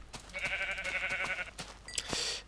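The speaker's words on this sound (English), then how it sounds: "So here we have some more sheep." A single Minecraft sheep gives a clear, nasal, wavering bleat lasting about a second, followed by a short chime-like game sound, heard alone at moderate level.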